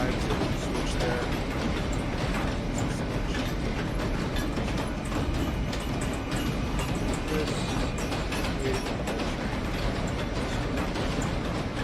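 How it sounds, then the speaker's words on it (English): Minecraft train moving along rails in a build of the New York City subway, a continuous busy rattling and clicking mechanical rumble that stays steady and fairly loud throughout. "just move the train to the other side so we can switch there."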